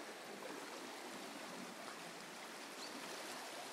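Flooded Pēterupe stream gushing out from under a bridge, a steady, dense broadband rush of water that stays even and continuous throughout with no voices.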